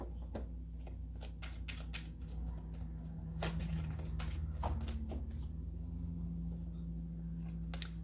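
Cards being shuffled nearby, a series of quick riffling snaps and soft slaps in irregular bursts over a low background hum.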